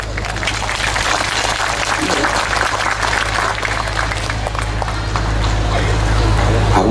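An audience claps throughout a religious talk, a continuous dense patter at moderate distance over a low steady hum, swelling slightly toward the end.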